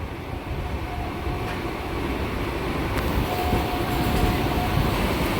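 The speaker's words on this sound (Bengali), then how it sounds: "কৃষ্ণনগর সিটি ছেড়ে আমঘাটার পথে রানাঘাট শান্তিপুর লোকাল" A Ranaghat–Shantipur local train runs between Krishnanagar City and Amghata, a steady loud broadband rumble of wheels and carriage heard from on board, with no voices.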